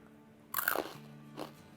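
Someone bites into a homemade spicy Kurkure snack, producing one sharp, loud crunch followed by a softer second crackle of chewing, close to the mouth with no talk.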